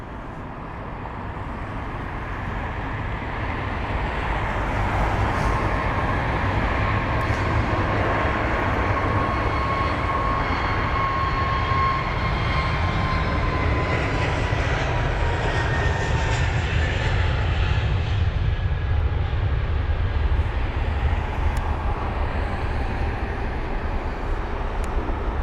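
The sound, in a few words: Airbus A321neo jet taking off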